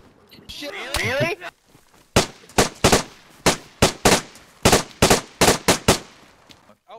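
Rapid gunfire in the survival game DayZ, about a dozen loud, sharp reports in an uneven burst, preceded by a brief stretch of speech.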